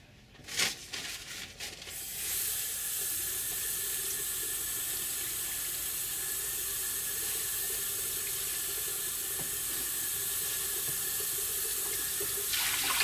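A tap runs at full flow into a washbasin as the water is changed during a bed bath, opening with a few knocks and handling sounds before a loud, steady rush that continues for about ten seconds.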